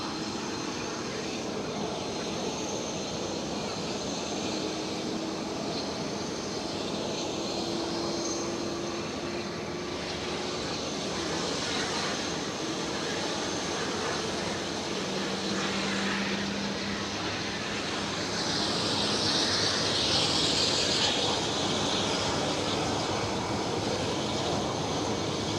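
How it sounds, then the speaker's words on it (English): An Eastern Airways airliner passes at Amsterdam Schiphol, a broad steady engine roar holding for the whole stretch and swelling slightly near the end, with no voices over it. "There goes Eastern Airways."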